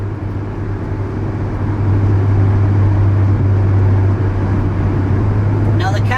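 Inside a car with sound-deadening material fitted, cruising at about 73 mph and 3000 RPM, a steady low engine drone and road hum fill the cabin, loud and constant, with a brief voice near the end.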